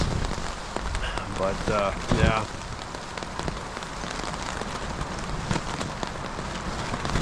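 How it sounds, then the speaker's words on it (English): Heavy rain pelts steadily on surfaces during a windy wilderness canoe trip, a dense close hiss with gusty wind, as someone speaks briefly near the start. "Raining like crazy and windy like crazy."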